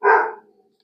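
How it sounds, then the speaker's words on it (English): A single sharp dog bark, loud and close, quickly fading out with nothing else around it. "Sorry if you can hear Lilo barking in the background"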